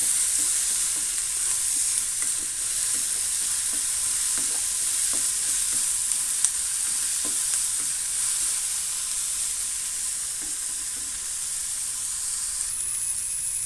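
Onions and green chillies sauté in a pan, giving a steady, close, continuous sizzle with soft scattered stirring clicks throughout, no voices.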